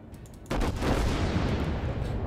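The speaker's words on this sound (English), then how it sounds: "Full barrage, Captain." A sudden heavy volley of battleship gunfire in World of Warships, fired from the Wyoming, erupts after a quiet half-second and rolls on as a dense, booming roar with no voices.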